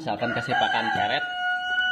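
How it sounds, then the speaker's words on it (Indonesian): A person speaks briefly, then a rooster's crow rises over and trails beyond the voice, fairly close and loud. "ada ayam lagi."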